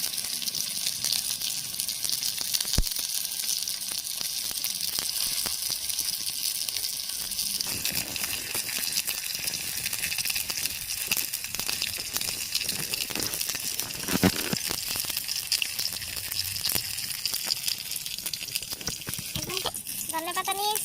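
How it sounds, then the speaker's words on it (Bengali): Tomatoes fry in a pan, giving a steady broadband sizzle that runs the whole time at moderate level, with small clatters and a brief rising scrape near the end. "টমেটোটা ভাজা হতে হতে সময় লাগবে একটু"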